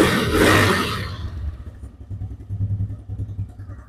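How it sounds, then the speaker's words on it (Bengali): A second-hand TVS Raider 125 cc motorcycle runs close by, a sharp rev dying away into a low, rhythmic idle chug. "এই বাইকটি ইঞ্জিন সাউন্ডটি আপনাদের শোনায়"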